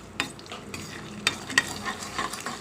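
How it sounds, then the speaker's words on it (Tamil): Crushed cashews roasting in ghee on a low flame, stirred in a pan with several sharp scraping clicks of the spoon amid a light, intermittent sizzle, close and clear. "முந்திரி பருப்பை நல்லா உடச்சி வச்சதை போட்டுக்கோங்க. போட்டு நல்லா சிம்மிலே வறுத்து விடுங்க."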